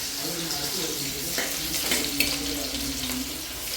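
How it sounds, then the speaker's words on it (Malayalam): Onions and spices are sautéed in a clay pot for fish curry, giving a steady sizzle with soft stirring scrapes that runs continuously at moderate volume. "നമ്മൾ നന്നായിട്ട് വഴറ്റണം. ഈ ചട്ടിയാകുമ്പോൾ ചൂട് നല്ലോണം നിൽക്കുമല്ലേ"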